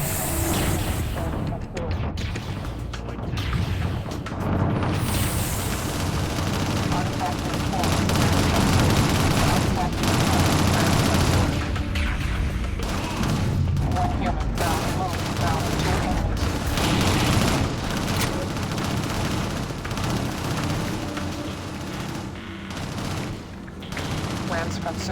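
Sustained gunfire and booming blasts in the Xbox 360 video game Shadowrun, with rapid shot bursts and heavy impacts running continuously for about twenty-five seconds, loud and close.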